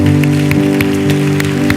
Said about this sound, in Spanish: ¿Por qué no le damos un fuerte aplauso al Señor?